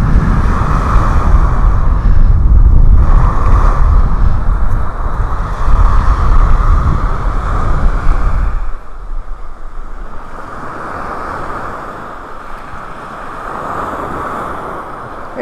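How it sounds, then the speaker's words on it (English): Strong wind gusts across a beach in North Naples, Florida, before sunrise, rumbling loudly with surf washing underneath, easing somewhat partway through but continuing throughout with no talking. "Boy, breezy, breezy,"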